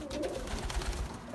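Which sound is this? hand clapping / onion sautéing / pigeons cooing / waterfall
pigeons cooing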